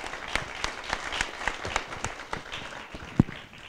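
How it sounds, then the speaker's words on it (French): Audience at an innovation day event held at a farm applauds a presenter: scattered, moderately loud claps from a small group, fairly even throughout, with one louder close clap near the end. "Je pense qu'on peut l'applaudir."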